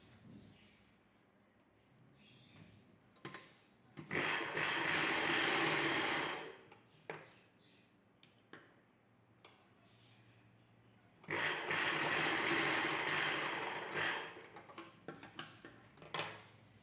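Sewing machine stitching the shoulder seams of a lined collar-neck dress, two long steady runs of fast whirring stitching separated by quieter pauses with small handling clicks.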